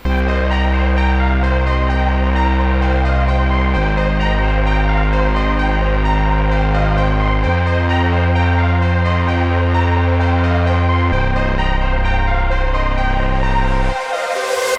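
A sustained electronic music transition with deep, shifting held chords and bell-like tones that change every few seconds, full and loud, ending with a rising swell and sudden cutoff.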